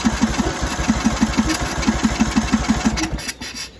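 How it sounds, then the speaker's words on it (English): Riding lawn mower engine cold-started after dark, running with a steady, fast chugging beat of firing pulses, close and loud, then briefly faltering near the end. "We're gonna do a cold start and then a speed run."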